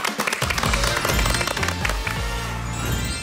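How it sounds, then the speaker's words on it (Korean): An audience applauds to welcome broadcaster and comedian Jeong Sun-hee to a lecture stage, with steady clapping throughout and background music playing underneath. "박수로 정선희 씨의 강의 청해 듣도록 하겠습니다"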